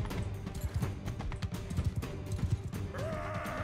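A horse in Mount & Blade 2: Bannerlord gallops in for a charge, rapid hoofbeats pounding close and loud over a busy battle din, with a brief whinny-like tone near the end and no speech.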